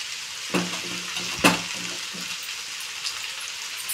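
Chicken egg noodles sizzle softly in a pan, with a few distinct scraping stirs of a utensil over steady low frying hiss.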